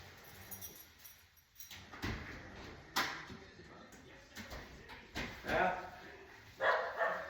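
A pet dog wanting to go out indoors gives a few short barks and yips at a faint, moderate distance, scattered among clatter and a sliding door, with a person talking throughout.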